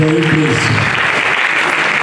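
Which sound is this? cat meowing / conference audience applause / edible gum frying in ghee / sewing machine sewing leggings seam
conference audience applause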